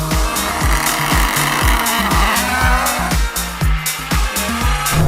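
A rallycross car launching hard in a drag race against a Bugatti Chiron and a Lamborghini, loud engine roaring through rapid rhythmic revs and gear changes with tire noise, close and continuous, no speech.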